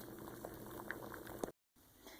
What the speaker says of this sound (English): Boil the shells for 15 minutes or until they are soft.